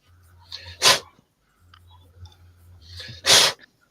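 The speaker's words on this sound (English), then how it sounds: "One of them bloody dogs are starting." A dog gives two sharp, loud barks about two and a half seconds apart, over a low, steady hum and faint background noise.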